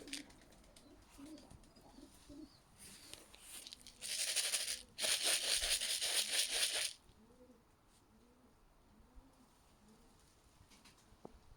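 Soft, repeated cooing of pigeons nearby, interrupted midway by a few seconds of loud rustling or tearing noise before the cooing resumes.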